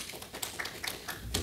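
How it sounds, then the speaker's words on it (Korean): A church congregation clapping during a sermon, thin and scattered claps rather than full applause, fairly faint and heard from across a large room. "졸지 않으시는 분들만 박수를 치는군요."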